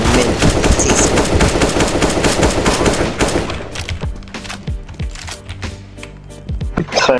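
Gunfire in the CS:GO video game: a sustained, rapid automatic burst for about three and a half seconds, then scattered single shots and short clattering bursts at lower intensity.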